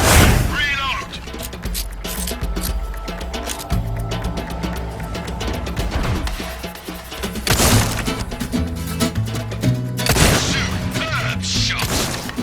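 Rapid gunfire and cracking shots from Resident Evil 4 (2023), dense and loud throughout with bursts of heavier impacts near the middle and end, under game music and effects.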